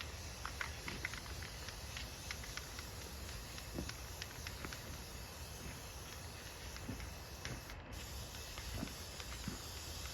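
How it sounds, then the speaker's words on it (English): Spray paint hissing steadily from an aerosol can onto a homemade light-up bar sign, a continuous faint airy spray with small clicks and taps scattered through it and a brief break near the end. "So I'm gonna finish spray painting."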